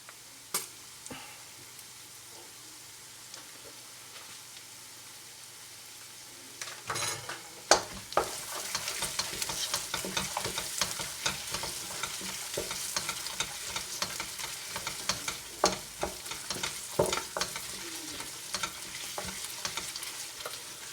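Tomato puree paste cooking in a pan for curry: quiet at first, then a sudden sizzle bursts in and continues with busy crackling and stirring scrapes for the rest of the clip.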